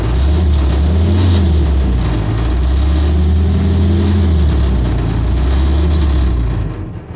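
Engine of a 1948 Willys CJ-2A Jeep running near the exhaust, a loud, steady low rumble with a slightly uneven idle throb throughout, easing off at the very end.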